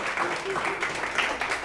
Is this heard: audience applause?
yes